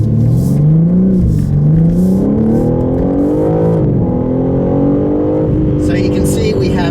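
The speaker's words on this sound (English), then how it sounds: "we have just endless power, 3-liter twin turbo engine" A 2023 BMW M3 Competition with a 3-liter twin-turbo engine accelerating hard, its loud engine note climbing steadily in pitch through the gears with brief dips at shifts, up close from inside the car.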